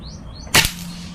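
A GCMAG BR airgun fires a single sharp crack on the shooting range after a sight adjustment, short and loud with a quick decay into quiet.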